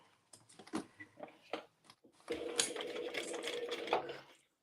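A sewing machine stitches an emo circle bag in short bursts, then runs in one longer steady run of motor hum and needle clatter that ends abruptly, all close up with no talk.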